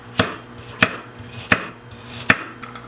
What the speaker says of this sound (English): I am going to chop up my garlic now